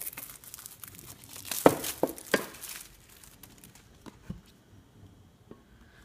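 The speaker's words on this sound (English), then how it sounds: "Let me cut the plastic." Plastic wrap on a boxed Apple iPad Air crinkles and tears sharply as it is cut open. A cluster of close, crisp rips is followed by quieter rustling and a few soft taps.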